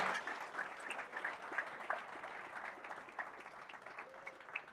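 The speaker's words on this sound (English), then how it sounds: "So first of all, give yourself a round of applause." Audience applause in a live talk setting, a dense, steady wash of many hands clapping that carries on evenly throughout at moderate volume, with no voices over it.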